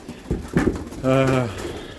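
A pigeon in a loft gives a short, throaty coo near the end, after a few brief rustles and a soft voice nearby.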